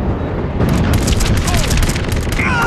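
In the shooter game MAG, a bunker is destroyed with a loud, booming explosion that rolls into crackling, gunfire-like debris over a couple of seconds.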